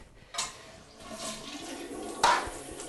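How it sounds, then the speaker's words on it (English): A toilet tank drains with the handle held down and the supply shut off, giving a rushing water flow with two louder surges, close and alone. "We're going to let all the water drain out of the tank, which means you want to hold the handle down the entire time."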